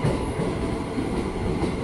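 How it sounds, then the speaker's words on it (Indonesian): An Indonesian KRL commuter train bound for Bogor rumbles steadily at close range, a dense low roar with faint rhythmic rattling of wheels, no voices. "akhirnya masuk komuter tujuan Bogor"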